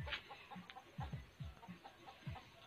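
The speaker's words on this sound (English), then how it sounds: "chicken" Short, low clucks from a chicken, repeated irregularly every half second or so, fairly faint with soft background noise.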